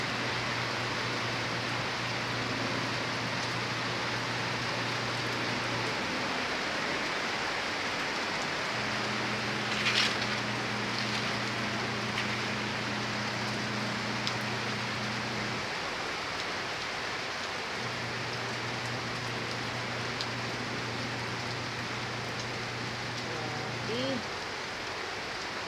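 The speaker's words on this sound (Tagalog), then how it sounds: "Malakas yung ulan." Heavy rain pours down in a steady, dense hiss that holds the same level throughout, with a low electrical hum coming and going beneath it and no talk.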